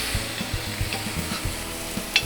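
Browned beef pieces dropped back into a hot pan hiss and sizzle close by, with soft thumps and scrapes as they land, ending in a brief sharper clink.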